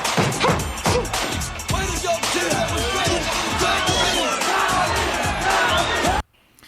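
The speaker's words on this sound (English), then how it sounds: "Now the crowd's chanting Tommy, Tommy." A large arena crowd at a boxing match in Madison Square Garden chants in a loud, rhythmic roar with shouts and cheers, and the sound cuts off abruptly at the end.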